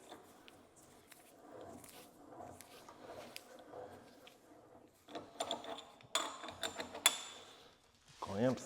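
A restored Kurt machinist vise has its jaw cranked back and forth, giving quiet mechanical whirring, light clicks and scraping that rise into louder metallic clunks toward the end.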